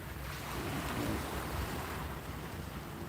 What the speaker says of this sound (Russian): это звук моря